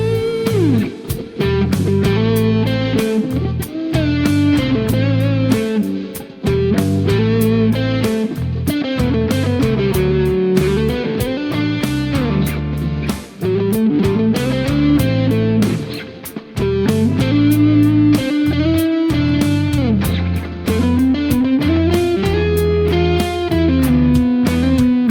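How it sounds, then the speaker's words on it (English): An electric guitar solo with effects and light distortion weaves continuous melodic lines over shifting chord changes, loud and close with sustained notes, bends and quick runs across the passage. "And so a solo like that might sound like this."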